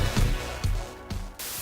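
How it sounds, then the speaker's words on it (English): White and pink noise test signals hiss steadily and fairly loud, cut by a few abrupt thumps and shifts in level before continuing evenly. "I created 5-second noise samples with white noise and pink noise."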